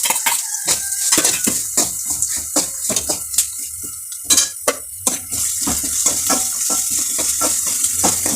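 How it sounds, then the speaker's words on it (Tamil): Coriander seeds, dried chilies, garlic and coconut roast in oil in a kadai, with rapid rhythmic spoon scraping and metallic clinks over a light sizzle, close and fairly loud, no talk. "ஒரு பக்கத்தில் வானலியில் எண்ணெய் ஊற்றி வரமல்லி, வத்தல் மிளகு இதை போட்டு வறுத்தெடுக்கணும்."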